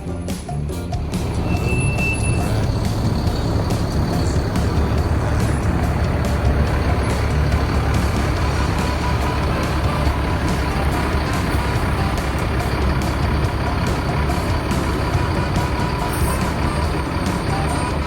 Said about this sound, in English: we pull the motorhome out of the campsite and we get her lined up for connection